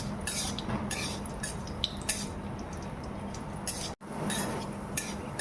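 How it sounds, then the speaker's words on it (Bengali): Cashews and raisins frying in ghee hiss with a steady, close sizzle, broken by clinks of a utensil against the pan; a brief dropout interrupts it near the end. "এবার এই ঘিয়ের মধ্যে আমি কাজু কিশমিশ দিয়ে দিলাম"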